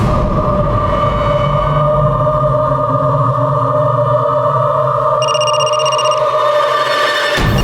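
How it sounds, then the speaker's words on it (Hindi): A telephone rings in a home, a steady, loud electronic ringing tone with layered pitches that continues throughout and then cuts off abruptly near the end. "किसका फोन है? इनका है।"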